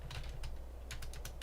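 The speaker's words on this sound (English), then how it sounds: "Let's type that in instead of what we've been typing in." Computer keyboard typing with quick clustered keystrokes in short bursts, close and clear over a low steady background hum, with no voices.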